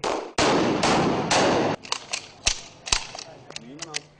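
Guns fire during a security guards' training session in Lahore, opening with a dense, loud burst of rapid shots, then scattered single cracks and clicks, with a voice briefly heard toward the end.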